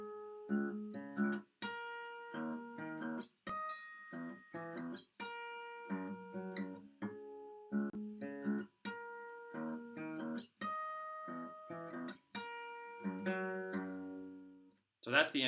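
Acoustic guitar plays the intro of a song, strummed chords with percussive slaps in a steady rhythmic pattern, clear and close, with no talking.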